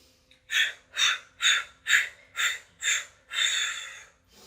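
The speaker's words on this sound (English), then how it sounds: "So keep going. Another few breaths." Deep, slow breaths during a yoga exercise, seven even exhales in a steady rhythm, close and clear, the last one drawn out longer, with no talking.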